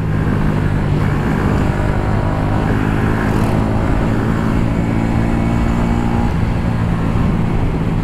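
A Yamaha R15 V3 motorcycle and a Hero Glamour racing side by side, with a loud, steady engine drone and rushing wind noise throughout and no voices.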